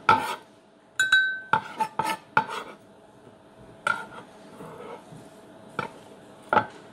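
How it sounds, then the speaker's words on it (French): A spoon scrapes and clinks against a pan while turkey is stirred with nuoc mam sauce. The sharp metallic knocks come in irregular bursts with quiet gaps between them, and no one talks. "Je vais tout mélanger avec le nourmam."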